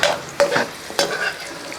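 Beef dry fry with curry leaves sizzling steadily in a pan, stirred in a few quick scraping strokes, close and loud, with no talking.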